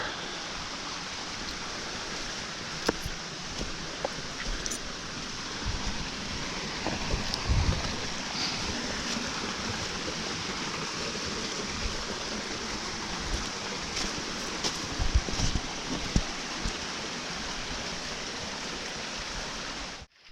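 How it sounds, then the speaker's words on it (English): A mountain stream rushes steadily through Cold Brook Pass in the Adirondack High Peaks, a dense, continuous wash of water that holds even and loud for the whole stretch, with no voices. "who doesn't love the sound of rushing water?"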